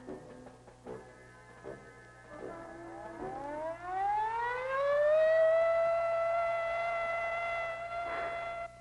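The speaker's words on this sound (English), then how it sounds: "Attack warning came at 20:15 hours." Civil defense siren sounding an attack warning, a loud rising wail that climbs steadily and then holds a long sustained tone, alone with no voices.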